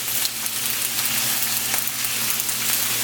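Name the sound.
scallion and pimento seeds frying in a pot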